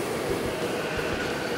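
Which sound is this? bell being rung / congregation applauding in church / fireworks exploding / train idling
train idling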